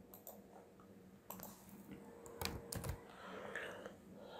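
Someone types on a computer keyboard, producing scattered, quiet key clicks in short irregular bursts with faint room hiss between them, and no voices.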